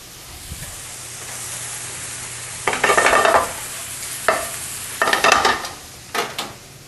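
Sausage in a pan bursts into sizzle when flipped, a low steady background fry broken by several loud crackling surges that swell and fade in uneven bursts.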